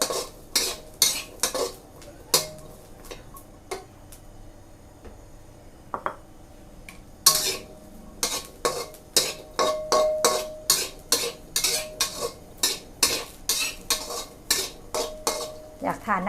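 A spatula scrapes and clanks against a pan while Thai chili paste is stir-fried with pork, fried kaffir lime leaves and dried red chilies. The close, irregular strikes come over a faint sizzle.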